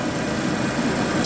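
A fully warmed-up Toyota truck engine idles smoothly and steadily at close range, a constant low mechanical hum with faint vibration and no revving.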